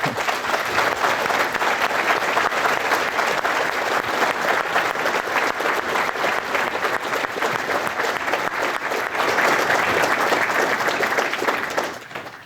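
Sustained applause from a large audience at a political exchange event, dense and steady for about twelve seconds before tapering off at the end.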